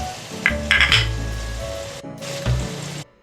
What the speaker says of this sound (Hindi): मसाला हमारा भुन रहा है